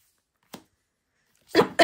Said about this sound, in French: Oh là là, toujours cette toux, et puis qui arrive par surprise.